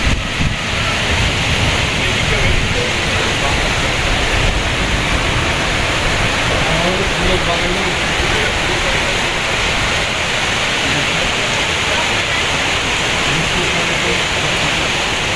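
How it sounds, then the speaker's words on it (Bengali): Heavy rain pours in a city beside a flower garden, a dense, steady roar that holds evenly loud throughout with no let-up. "এই যে দেখেন কি জোরে বৃষ্টি হচ্ছে আজকে"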